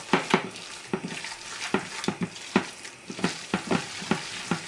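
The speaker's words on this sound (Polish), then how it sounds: "smażyć w dużej ilości tłuszczu" Oil sizzles and crackles steadily while fish balls deep-fry in plenty of fat, with repeated sharper spatters and clinks every half second or so, fairly close.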